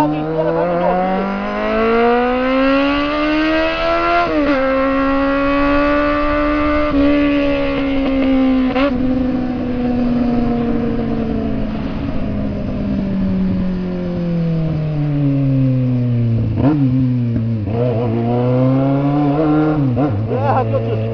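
A Kawasaki Z750 four-cylinder motorcycle revs hard through city streets and over an overpass, loud and close, its engine note climbing and falling in repeated sweeping surges with sharp throttle blips.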